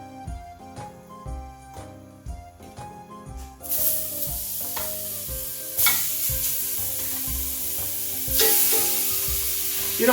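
Seasoned chicken sizzles in a hot, lightly oiled pan, a steady loud frying hiss that swells after a few seconds and holds, with music playing beneath throughout.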